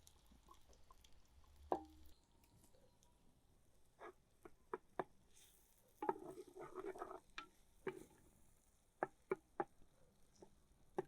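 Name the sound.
garlic frying in hot oil in a clay pot for shiro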